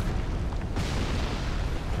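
A fireball explodes in the video game Dark Souls 3, a heavy rumbling boom with a sudden bright burst partway through that leaves a broad, roaring blast sustained to the end.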